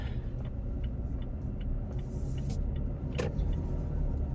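Cabin of a 2022 Toyota Tacoma TRD Off-Road pickup cruising on a freeway, a steady low road rumble and tire drone with faint wind hiss and a brief passing whoosh near the end.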